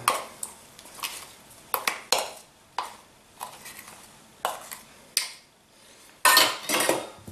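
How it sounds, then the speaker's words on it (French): Pastry cream loosened with a utensil in a bowl for a frangipane galette des rois, a series of separate clinks and scrapes against the bowl at irregular intervals, close and fairly clear, ending in a louder burst of scraping. "on mélange un petit peu la crème pâtissière pour la détendre"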